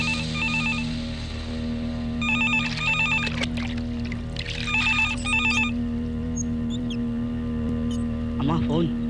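A telephone rings in repeated electronic bursts over a steady background music bed, several rings spaced across the stretch, with a brief sound near the end.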